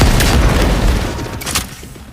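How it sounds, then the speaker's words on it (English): Gas canister exploding among a small horde of enemies in the horror game Cronos: The New Dawn, a loud, dense low boom with crackling bursts that rumbles on, then fades slightly with a second flare. "creatively using gas canisters, exploding a small horde of enemies at once"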